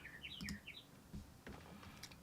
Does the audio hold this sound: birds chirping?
yes